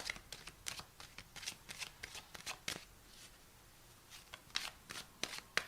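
Tarot cards being shuffled and drawn by hand, a quiet close run of quick riffling and slapping card sounds in uneven bursts with brief pauses, no talking.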